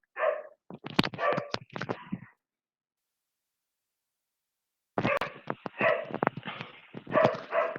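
A dog barks in short sharp bursts, a quick cluster, then silence, then another run of barks, loud and close.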